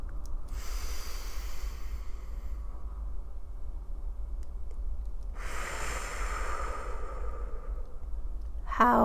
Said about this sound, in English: So you're breathing in,